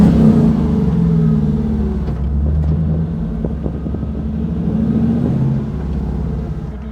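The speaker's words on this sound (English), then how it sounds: "Supercharged V8." A supercharged V8 drift truck engine rumbles steadily and close, with a deep, continuous throb that swells slightly as it runs, and no talking.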